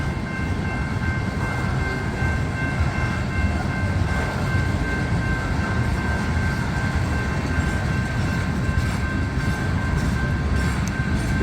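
CSX 899 freight train rumbles steadily past on the Old Main Line, a dense low roar of rolling wagons with faint wheel clatter and a thin tonal whine held throughout, close and continuous.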